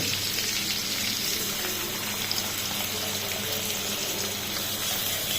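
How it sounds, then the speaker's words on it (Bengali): Egg is stirred into beef chow mein frying in a pan, producing a continuous loud sizzle with faint scraping throughout. "তো ডিমটা একটু ভালো করে নেড়ে নিচ্ছি, যাতে চাউমিনের সাথে ভালো করে মিক্স হয়"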